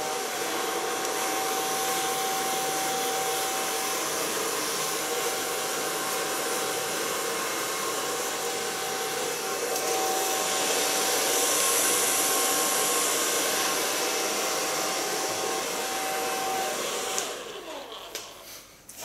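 A handheld blow dryer runs continuously while drying hair during a cut and color session, a steady loud whooshing hum with a brief pitch shift midway, cutting off near the end.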